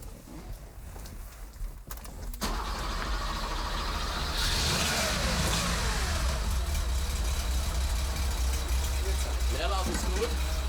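A Porsche 911 Carrera RS engine starts up and settles into a steady, deep idle that holds to the end, with people talking nearby.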